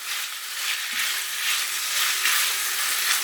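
Lamb slivers in a hot stir-fry pan, a loud dense sizzle that swells and eases in gentle waves, with a faint scrape of stirring, no voices.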